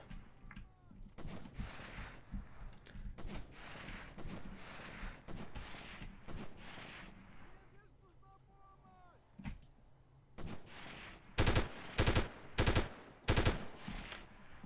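Automatic gunfire from the 1998 video game Delta Force, with bursts spread through the clip and a series of loud, sharp rapid volleys near the end, set among other game sounds.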